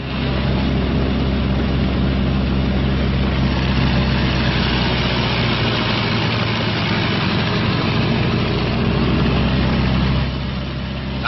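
Twin engines of a B-26 bomber run up together to about 1,800 RPM, a loud steady low droning roar with constant propeller hum throughout, dropping slightly near the end, no talk.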